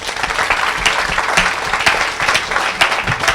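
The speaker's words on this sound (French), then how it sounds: "Acclamons pour elle." A church congregation claps loudly for a woman during a service, a dense and continuous burst of applause with no speech over it.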